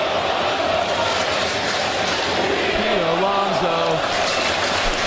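Baseball crowd at Citi Field cheering for Pete Alonso, a dense, steady roar of thousands of voices, with a louder voice rising briefly over the noise.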